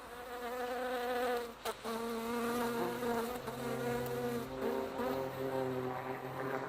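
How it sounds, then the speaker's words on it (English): A buzzing bee in flight, its droning wingbeat hum loud and close, wavering slightly in pitch and going on unbroken with no voices. "the sound of the engine is the sound of the bee"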